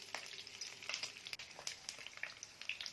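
Pork belly stir-fried in a wok over low heat as its fat renders out, giving a soft, steady sizzle with light crackles and occasional scraping stirs, quiet and close with no talk.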